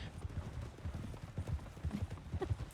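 Horse hooves clip-clopping in the Red Dead Redemption 2 video game, a steady rhythmic trot close by with light game ambience and some talk over it.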